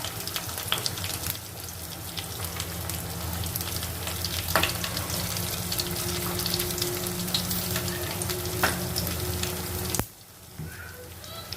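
Mustard seeds and cumin spluttering and sizzling in hot oil for a bitter gourd dish, a steady close crackle with scattered pops that continues throughout and dips briefly near the end.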